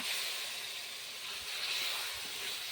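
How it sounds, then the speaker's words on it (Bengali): Goat fat dropped into spices frying in oil hisses with a steady, bright sizzle, close and continuous with a few faint low knocks underneath. "এখন আমি এর মধ্যে খাসি চর্বিটা দিয়ে দিচ্ছি।"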